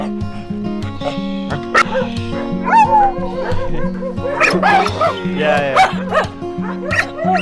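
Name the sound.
dogs barking at a stray dog shelter in Morocco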